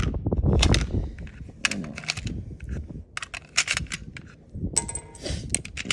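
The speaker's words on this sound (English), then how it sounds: "I'll probably shoot 3 rounds at the target" Shots from an AR-15 rifle firing a Varget powder load at about 2,900 feet per second, several sharp cracks spread over a few seconds at a range, with brief speech early on.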